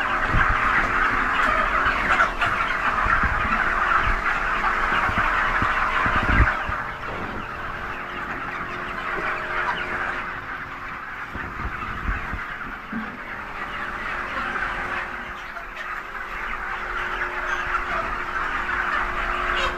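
A dense, continuous clucking of chickens fills a poultry farm shed on a hot summer day while water is sprayed over the roof to cool them. The din stays steady and close throughout, with no talk.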